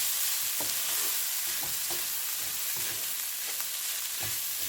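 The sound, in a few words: shark mixture being added to the pan and stirred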